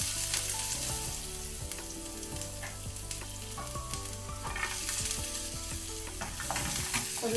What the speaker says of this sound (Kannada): ಸ್ವಲ್ಪ ಫ್ರೈ ಮಾಡ್ಕೊಳ್ಳುವ ಲೋ ಫ್ಲೇಮಲ್ಲಿ